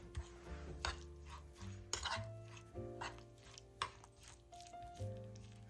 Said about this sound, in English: we're gonna get all this mixed in first